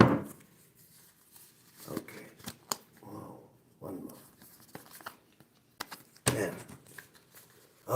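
Tarot cards are shuffled and riffled by hand in a quiet room, giving soft papery bursts and flicks spaced irregularly, with occasional faint talking between them.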